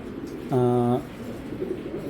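A black checker pigeon gives a single short, close coo against quiet background noise.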